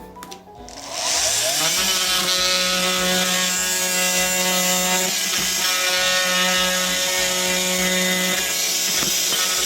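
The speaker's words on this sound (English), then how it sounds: "we're just going to use our multi-tool and connect these two into a slot here" A handheld oscillating multi-tool cuts a slot to join two pieces for a homemade ball drop build. After a short start-up it runs as one loud, steady, buzzing whine for about eight seconds, close by and with no talk.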